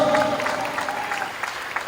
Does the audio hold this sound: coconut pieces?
no